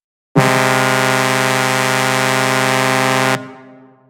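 A single loud, sustained blast from a high-frequency truck air horn, steady and piercing for about three seconds, then cutting off abruptly with a short echo tail.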